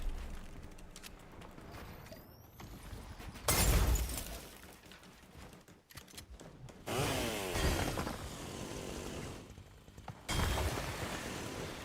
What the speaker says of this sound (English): But it was just a chainsaw.